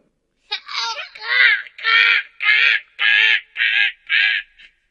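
A crow caws about seven times in a quick, evenly spaced run of harsh, loud calls within a Gujarati children's story about a crow thrown into mud by a well.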